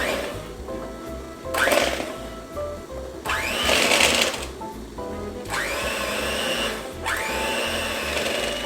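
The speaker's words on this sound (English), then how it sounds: "I have my hand mixer." Electric hand mixer whirring through a chocolate cheesecake filling for a no-bake pie, running in several loud bursts that climb in pitch as the speed rises, with short dips in between.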